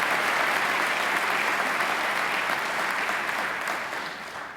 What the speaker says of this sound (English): I'm sure you'd like to give them a round of applause as well.